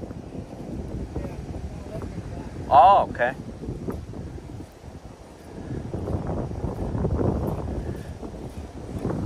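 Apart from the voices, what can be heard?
wind blowing on a river on a windy morning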